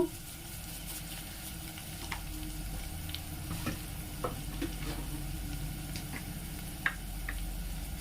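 Broad bean khichdi with salt and oil being stirred in a pot, a steady soft sizzle and hiss throughout with scattered faint scrapes and ticks of the spoon.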